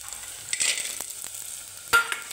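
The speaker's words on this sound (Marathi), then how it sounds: "आपण कांदा तळत आहात" Onion fries in a pan, with a soft continuous sizzle broken by a few scraping stirs and one sharper clink of a utensil near the end.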